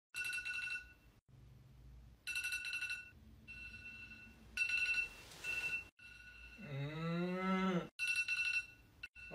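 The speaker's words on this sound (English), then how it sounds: "The damn alarm!" An alarm rings in repeated electronic bursts with short gaps, then a long, wavering low moo-like tone sweeps through the middle before the ringing resumes, loud and close with no voices.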